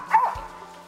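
A hunting dog on a squirrel hunt in Fosters, Alabama gives a single short, sharp bark, close and clear, over faint outdoor background.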